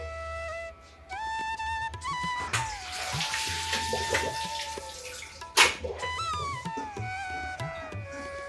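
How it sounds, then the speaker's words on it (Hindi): Water runs and splashes steadily for several seconds as water is poured out of a container of corn, like a tap or water poured into a sink, with a brief louder splash partway through. "अब मैं इस पानी को बाहर फेंक देती हूँ।"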